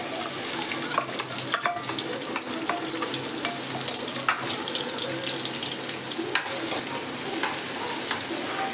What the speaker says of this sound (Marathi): चिरून ठेवलेला कांदा घालू.